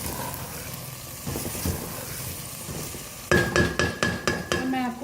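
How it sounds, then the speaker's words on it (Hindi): Mash ki dal with ground garam masala is stirred in a pot over a soft sizzle, then a spoon clinks sharply against the metal rim several times in a quick series of ringing taps. "अच्छी तरह से हिला देंगे"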